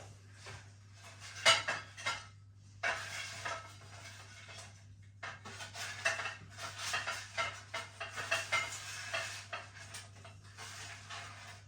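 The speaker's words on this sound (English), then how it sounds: "let's get it off this tray then onto a plate" Metal utensils clatter and scrape against a baking tray and plate as battered salt and chilli chicken and chips are moved across, a run of close, sharp clinks and scrapes with brief pauses and no talk.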